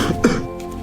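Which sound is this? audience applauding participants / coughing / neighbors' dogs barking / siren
coughing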